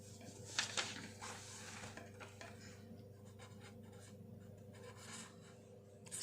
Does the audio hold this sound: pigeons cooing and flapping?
no